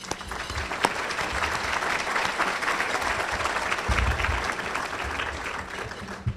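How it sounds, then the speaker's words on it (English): Steady applause from an awards-ceremony audience for the Children's Guardian Fund, moderately loud and continuous throughout, with no talking over it. "I'd like to give you a round of applause"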